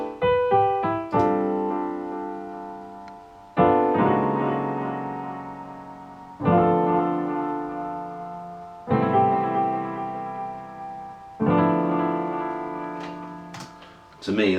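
Lofi piano chords pass through a tape delay effect: five separate chords, each struck and then left to ring and fade slowly, with soft echo repeats trailing behind them. Nothing else is heard.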